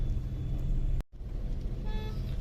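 Road traffic jammed at a packed roundabout in Bulandshahr during the UP election, a steady loud engine rumble and hum with a brief dropout, then a cluster of horn toots near the end.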